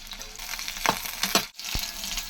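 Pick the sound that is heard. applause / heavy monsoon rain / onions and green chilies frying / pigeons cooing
onions and green chilies frying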